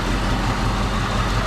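A 1967 Ford Mustang GT engine idles steadily, a loud, continuous low rumble close by with no break and no talking.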